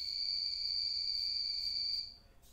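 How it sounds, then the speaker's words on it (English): A loud, continuous high-pitched trill from frogs rings steadily, then cuts off near the end, leaving faint background noise. "Those frogs are getting so loud."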